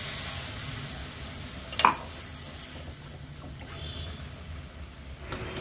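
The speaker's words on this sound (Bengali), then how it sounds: "এবার একটু জল দিয়ে দেব" Water splashes into a hot pan of paneer curry with chili powder, a brief burst followed by steady soft sizzling and faint stirring, close and without talk.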